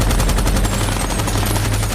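Rapid automatic gunfire from a film shootout against Taliban fighters roars continuously and very loud, a dense rattling barrage with no pauses and no talking.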